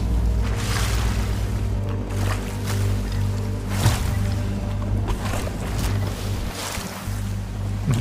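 Storm at sea in the video game Sea of Thieves, with steady roaring wind and crashing waves against a ship, a continuous loud wash with low rumble and occasional swells, and no talk.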